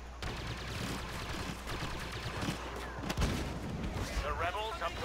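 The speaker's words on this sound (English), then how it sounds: "why not try barrage?" Barrage artillery fire in the video game Star Wars Battlefront: a dense, continuous rumble of rapid explosions and blasts with a heavy low end, mixed under game effects and occasional voices.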